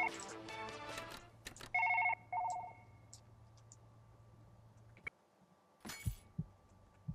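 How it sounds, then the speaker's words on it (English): A phone rings in repeated short bursts at moderate loudness during Surgeon Simulator gameplay, with game sounds and a low steady hum around it. "Shut up, phone, no one cares."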